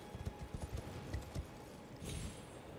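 Torrent, the spirit horse in the video game Elden Ring, gallops in a quick irregular clatter of hoofbeats, fairly faint and with no talk.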